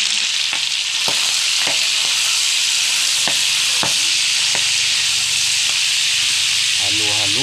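Kangkong being stirred in a hot pan for pancit bihon makes a loud, continuous sizzle and hiss, broken by scraping clicks from the stirring utensil, with a brief voice near the end.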